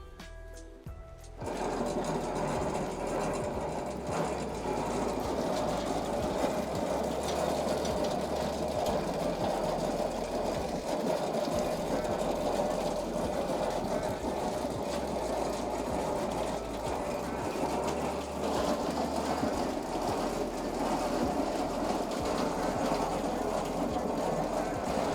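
A hand-cranked grape crusher destems grapes during a home winemaking harvest. It gives a continuous rumbling, grinding mechanical drone with rattling texture that holds steady for over twenty seconds after a quieter opening moment.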